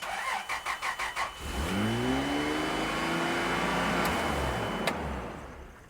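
A Toyota 80 Series Land Cruiser engine cranks in a quick series of starter pulses, then catches and surges into a loud, sustained high rev that slowly winds down, close by with no talk.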